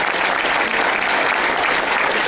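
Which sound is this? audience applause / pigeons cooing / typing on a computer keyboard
audience applause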